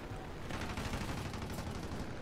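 Aircraft machine guns firing in a flight combat video game, fairly quiet sustained rattling bursts of gunfire mixed with distant explosions throughout, with no voices over it.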